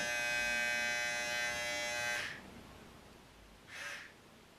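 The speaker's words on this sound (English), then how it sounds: "Let me shave you." Electric clippers buzz steadily close by while shaving a dog, then cut off abruptly, followed by quiet room tone and one short faint rustle.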